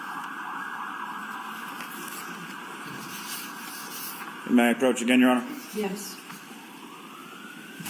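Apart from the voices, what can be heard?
emergency vehicle sirens passing outside courtroom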